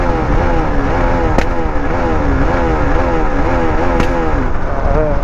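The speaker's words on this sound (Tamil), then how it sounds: "இப்போ வண்டி மிஸ்ஃபயர் ஆகுது பார்த்தீங்களா? வண்டி சைலன்ஸை டப்புன்னு வெடிக்குது." A motorcycle on a highway run from Chennai toward Hyderabad drones loudly and continuously, its engine misfiring with an uneven pulsing note and two sharp pops from the silencer.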